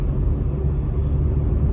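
A continuous low engine rumble from a 2021 Maruti Suzuki Swift being pushed on an open road drones steadily with road noise, loud and close, with no clear change in pitch across the short stretch.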